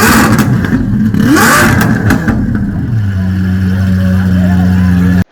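At a motorsport festival, a Lamborghini Aventador SVJ's 6.5-liter naturally aspirated V12 blips through sharp, loud revs at close range, then settles into a smooth, steady idle before cutting off abruptly.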